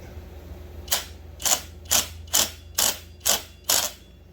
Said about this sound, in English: we're going to turn our flywheel towards the front of the saw and snug up the nut